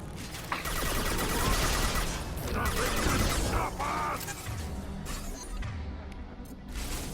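Locust submachine gun fire during a Mass Effect 2 firefight: dense, continuous bursts of sharp reports and impacts packed into a loud, busy battle mix with mechanical clatter.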